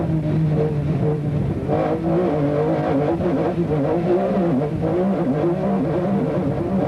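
Off-road race car at the 1995 SCORE Baja 1000 on a twisty mountain course, heard from inside as a loud, continuous engine drone that rises and falls with shifting revs over rough-terrain rattle.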